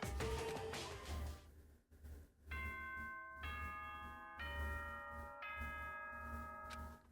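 A chiming announcement jingle from the Danganronpa video game rings out as a sequence of bright sustained bell-like tones, several distinct notes stepping in turn over a low background hum.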